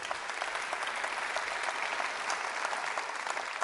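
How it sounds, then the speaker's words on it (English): Steady applause from a large audience at an annual meeting in the New World Center, Miami Beach, a continuous even wash of clapping heard at moderate distance throughout. "it's worth the applause"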